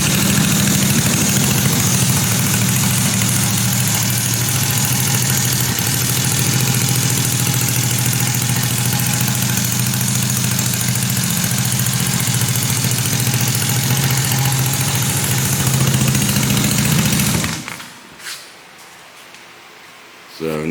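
A Yerf Dog go-kart engine, a Yerf Duck build, runs loud and close at a steady, throaty idle for about seventeen seconds, then cuts off abruptly into near silence.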